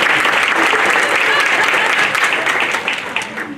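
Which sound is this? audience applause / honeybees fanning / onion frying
audience applause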